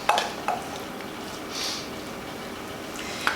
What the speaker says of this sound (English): Giving it a good stir. Get everything nice and coated.